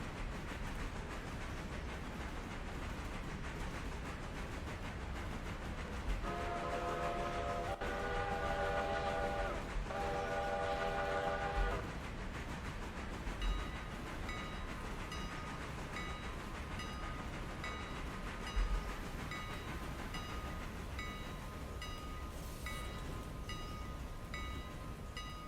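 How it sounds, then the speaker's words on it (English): A train running in the Railroader video game, arriving at a small lakeside station, with a steady rolling rumble throughout and a clear whistle or horn blast partway through, then bell-like tones near the end. "The train has arrived."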